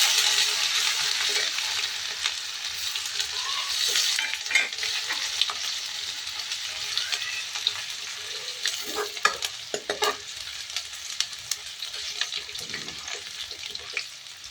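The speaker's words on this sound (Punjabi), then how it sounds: "ਲਸਣ ਥੋੜੀ ਜਿਹਾ ਭੁੰਨਣਾ ਹੈ ਜੀ" Garlic fries in a pan with cumin as the base for saag, a steady close sizzle broken by frequent scraping clicks of stirring, with no talking.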